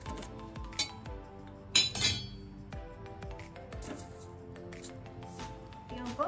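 Baati being flipped inside an open pressure cooker for litti chokha, with a few sparse, faint metallic clinks and scrapes against the pot.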